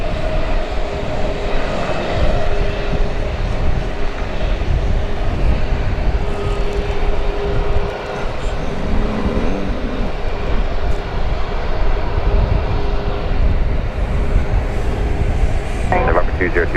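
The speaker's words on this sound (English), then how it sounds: "here comes flight 1181 from Santa Ana in California" An airliner, flight 1181 arriving from Santa Ana, California, rumbles steadily at Dallas Love Field as a continuous broad engine roar with a faint tonal whine, persisting throughout at moderate distance, with people talking over it.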